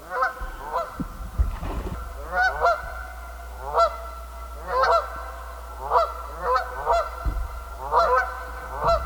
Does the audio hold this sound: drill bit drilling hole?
no